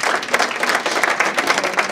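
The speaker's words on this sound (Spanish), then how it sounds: "Fuerte aplauso a los de Perú, por favor, por su cacao." A crowd applauds, a dense burst of hand claps rolling steadily and loudly throughout.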